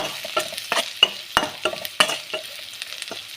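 Radish stir-fry with chili powder is stirred in a pan, a spatula scraping and tapping in quick irregular strokes over a light sizzle, close and fairly loud with no talking.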